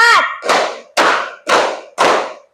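A class of pupils claps their hands together in a counted classroom chant, five sharp, loud group claps in an even rhythm, the first overlapping a brief voice.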